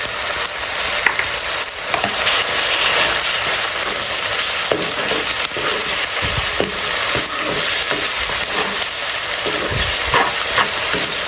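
Ginger paste frying in a pan for a red chilli chicken dish, a steady close sizzle with occasional stirring scrapes and crackles running throughout.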